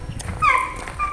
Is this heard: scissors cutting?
no